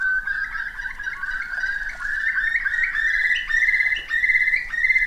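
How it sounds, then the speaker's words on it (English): Whimbrels on the Isle of Mull give continuous rippling, bubbling trills, loud and close, with other birds faintly chirping behind. "Whimbrel constantly called"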